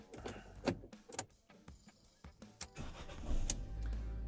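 A 2022 Fiat Strada starts up on a freshly programmed key, with clicks and a short crank leading into a steady idle that rises near the end. No one talks.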